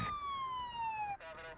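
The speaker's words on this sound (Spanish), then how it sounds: "Una ambulancia llega en minutos" An ambulance siren wails in one long falling tone, fairly faint and distant, ending abruptly as a brief murmur of voices follows.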